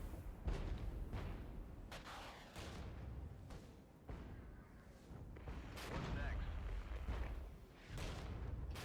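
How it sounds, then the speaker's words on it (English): Artillery fire in the real-time strategy game Regiments, with repeated heavy booms and rumbling impacts landing every second or so amid steady battle noise, a voice talking underneath throughout. "they've got artillery coming in"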